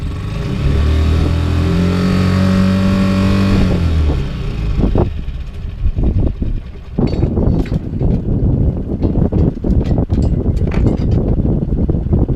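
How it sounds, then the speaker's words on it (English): The outboard engine on a Tanzer 22 sailboat drones and rises in pitch for a few seconds, then dies away into choppy wind buffeting and knocking sounds as it fails to rev up. "So the outboard engine doesn't want to rev up."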